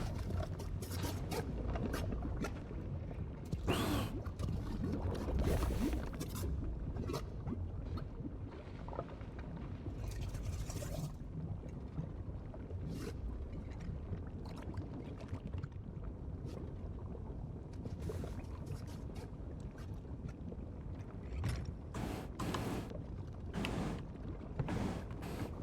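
A wooden sailing ship moving over open water in Sea of Thieves, with a steady wash of waves and wind, occasional creaks of timber and rigging, and a continuous, moderately loud ambience without voices.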